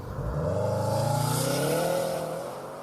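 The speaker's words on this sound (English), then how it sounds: "Its characteristic flat 4 throb certain to thwang the heartstrings of WRX devotees across the land." A Subaru WRX STI with its flat-four engine throbs loudly and steadily up close, a deep rumbling pulse with rising and falling revs that swells, holds, then eases off.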